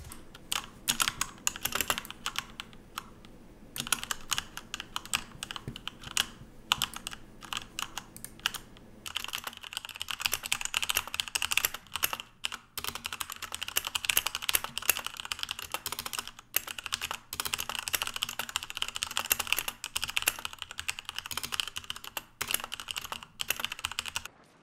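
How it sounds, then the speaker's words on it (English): Fast, continuous typing on a Cooler Master MK730 mechanical keyboard with Cherry MX Red linear switches, a dense stream of crisp key clicks close to the mic, with a few short pauses. "Now I'll let you have a listen to some gaming and some typing."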